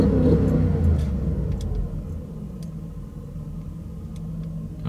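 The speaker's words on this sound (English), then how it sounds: "Let me try and give it some gas." V8 engine of a 2005-2010 WK Jeep Grand Cherokee being given gas, a close, heavy low rumble that swells at the start, eases back, then holds steady and rises again at the very end.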